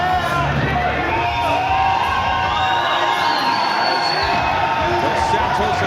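Crowd cheering and whooping throughout at a fight event at the Sport Expo, a dense, steady roar of many voices with shouts rising over it.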